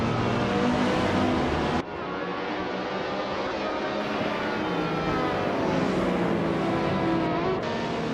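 Several race car engines from a 2008 Porsche RS Spyder Evo prototype in a racing video game drone and rev together continuously, loud and dense throughout, with a brief dip around two seconds.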